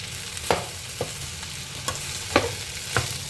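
Food frying in a pan while being stirred, a soft steady sizzle with occasional scraping knocks of the spoon against the pan, close and fairly quiet, with no voices.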